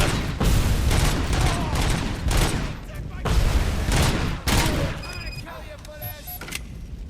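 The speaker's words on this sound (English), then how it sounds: "Someone else is shooting me." Rapid bursts of gunfire from the RoboCop: Rogue City video game, dense and loud in waves for several seconds, then thinning into scattered shots with beeping interface tones near the end; a voice is heard alongside.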